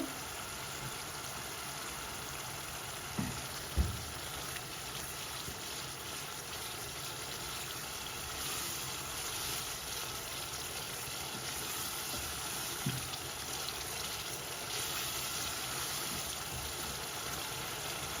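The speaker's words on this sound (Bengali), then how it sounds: "মশলার লগে আমরাটাও কষা দিব" Amra being fried with spices in a pan for a Sylheti fish tenga curry, a steady low sizzle running throughout with a couple of brief utensil knocks near the start, fairly quiet and without talk.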